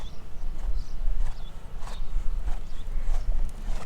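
Horse cantering in a dressage arena, rhythmic muffled hoofbeats on soft footing with a low steady rumble, close and even in pace, no voices.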